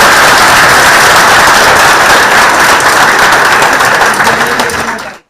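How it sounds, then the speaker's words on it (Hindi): An audience claps together at an interview event in a coaching institute, a loud, close, continuous burst of applause that holds steady before cutting off abruptly at the end. "ताली बजाओ भाई"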